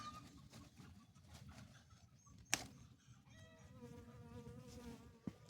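Faint buzzing of a bee drifting close and away around strawberry plants in an outdoor garden, with a sharp tap partway through and quiet background noise.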